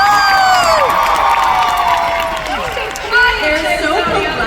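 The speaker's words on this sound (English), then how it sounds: "you can clap, it's fine." Convention panel audience at a San Antonio fan event cheering and shouting loudly, a dense sustained crowd roar with whoops rising over it throughout.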